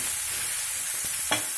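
Bottle gourd frying in a little oil in a pan, a steady close hiss and crackle of sizzling with a few soft stirring knocks and one brief scrape near the end.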